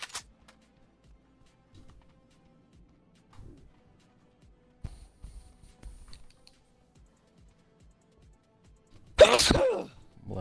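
A single sharp sneeze near the end, loud and close, following a stretch of quiet tapping and clicking from computer keys during a PUBG gaming session.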